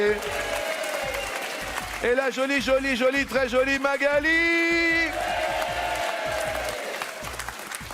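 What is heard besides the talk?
TV studio audience applause welcoming contestants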